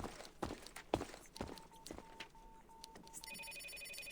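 An internal wall phone in Reverse: 1999 rings with a steady repeating electronic tone, moderately loud over light footsteps and room noise, settling into a brighter trilling ring near the end.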